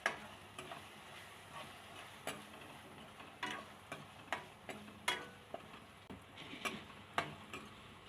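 Potatoes fry with golden brown onions in a pan, a faint, quiet sizzle broken by repeated sharp clicks and scrapes of stirring at an irregular pace, with no voices.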